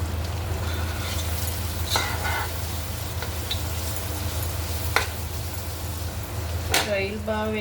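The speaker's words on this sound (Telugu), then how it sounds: "రొయ్యలు బాగా వేయించుకోవాలి." Prawns frying in a pan for biryani, a steady close sizzle with occasional stirring clatters and scrapes against the pan.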